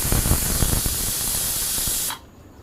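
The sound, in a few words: pressure cooker releasing steam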